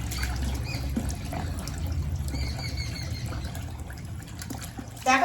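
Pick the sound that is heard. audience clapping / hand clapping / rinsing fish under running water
rinsing fish under running water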